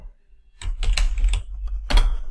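Fingers typing on a computer keyboard to fill in a spreadsheet template, a close, quick run of key clicks with a brief pause near the middle and a final burst of strokes.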